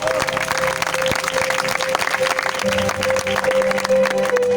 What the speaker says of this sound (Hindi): यीशु के लिए जोरदार तालियां बजाएं